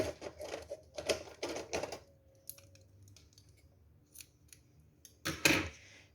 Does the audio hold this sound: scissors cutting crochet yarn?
yes